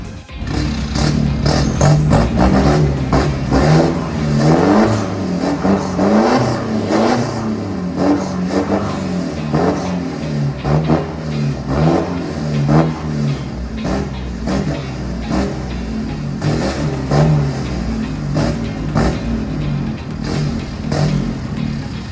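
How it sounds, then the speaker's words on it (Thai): A 2020 Isuzu D-MAX pickup with a T.O.D exhaust revs repeatedly up close, its engine note rising and falling in steady cycles over more than twenty seconds of loud, raspy exhaust rumble with no talking. "นี่คือเสน่ห์ของท่อ TOD นะครับ ลองฟังเสียงกันสักหน่อยนะครับ"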